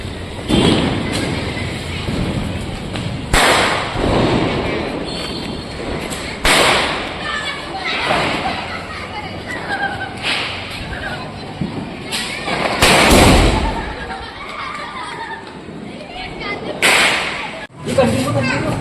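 Sharp, loud bangs of Diwali firecrackers burst at irregular intervals, some close together, over steady background noise and people talking nearby.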